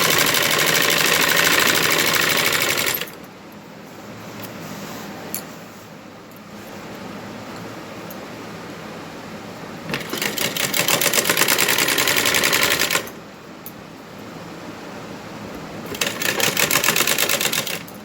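A sewing machine stitches a salwar, sewn up to a 9-inch mark, its motor whirring in two loud bursts of steady running separated by quieter pauses of handling, with no talk.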